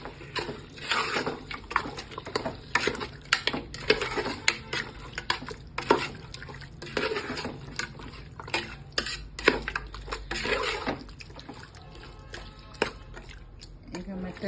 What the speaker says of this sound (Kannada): ಈಗ 1 ಸ್ಪೂನ್ ಅಷ್ಟು ಉಪ್ಪು ಹಾಕ್ಕೊಳ್ಳೋಣ. ಇದನ್ನು ಚೆನ್ನಾಗಿ ತಿರುಗ್ಕೊಳ್ಳಿ